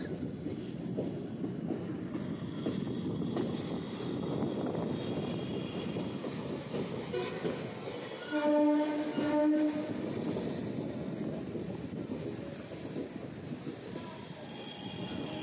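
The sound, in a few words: Howrah–Bandel local train departing Howrah station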